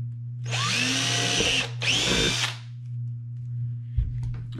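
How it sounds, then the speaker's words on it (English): A power drill bores a hole in a plastic yellow jacket trap in two close, loud whining bursts with a short pause between, over a steady low hum. "Drill our second one."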